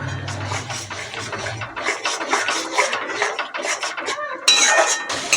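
Spiced masala paste mixed with whisked sour yogurt is stirred and scraped in a pan for a fegg and cauliflower curry, a steady run of clinks and scrapes with a louder sizzling burst near the end, no talking.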